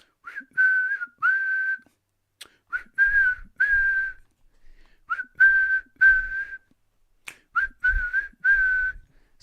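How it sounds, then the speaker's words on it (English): Repeated whistling in short, shrill bursts, several blasts in uneven groups across the stretch, loud and close with silent gaps between. "Blow the whistle."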